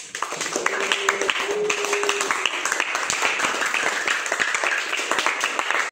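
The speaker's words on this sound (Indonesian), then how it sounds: "Silakan untuk kelompok 1 kasih tepuk tangan yang meriah." A classroom audience gives group 1 a lively round of applause, dense continuous clapping from many hands filling the room at steady loudness for several seconds.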